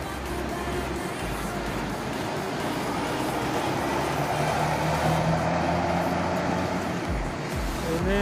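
Intercity bus pulling out of the Giwangan bus terminal, bound for Surabaya, its low engine rumble steady and fairly close amid general terminal bustle and distant traffic, with no clear talk.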